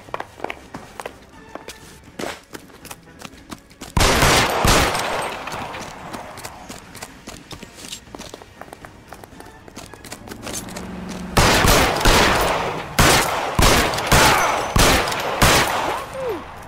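Gunfire in an L.A. Noire shootout comes in two dense bursts of sharp, rapid shots over a run of footsteps, loud and close, with quieter stretches of steps and scattered single cracks between the volleys.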